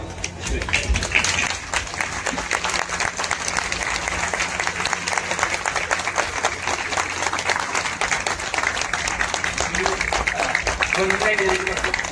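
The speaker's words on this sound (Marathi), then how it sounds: "आपण सर्व उभे राहून टाळ्या वाजवून त्यांना सन्मान द्यावा" An audience at a theatre conference inauguration gives a standing ovation for the conference president, with dense, sustained applause filling a hall, steady and loud throughout, with a few voices faintly audible underneath.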